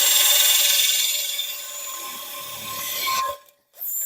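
Close, high-pitched whining drill grinding into a terracotta pot, steady then tapering, stopping abruptly near the end before briefly starting again.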